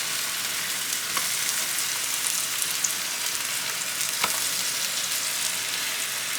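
A birria taco browns on a grill with an even, continuous sizzle and occasional faint pops, close and steady throughout.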